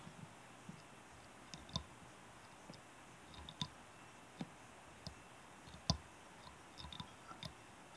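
Scissors snip away excess fly-tying material on a Hammer Creek Scud pattern, a scatter of faint, quiet clicks at irregular intervals over a soft room hush.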